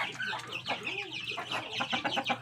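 Chickens cluck in a backyard coop, a busy run of close, overlapping clucks and short calls.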